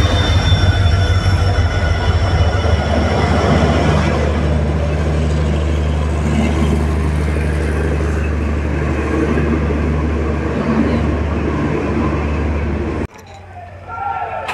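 The Rameswaram–Tambaram Pamban Express pulls into Mayiladuthurai railway station with a loud, close, heavy rumble of wheels and carriages, steady for about thirteen seconds before cutting off abruptly.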